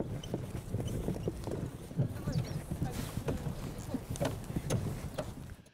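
Hooves of a horse clip-clopping steadily at a walk, fairly faint over a constant outdoor background, with some indistinct voices in the mix.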